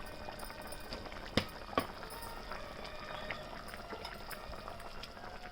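Fish curry simmering in a pot, the oil rising to the surface: a steady low bubbling runs throughout, with two sharp knocks partway through and no talking.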